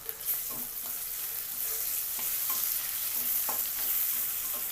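Curry leaves drop into hot frying oil with chopped onion in a pan, crackling and sizzling steadily with occasional stirring clinks and scrapes.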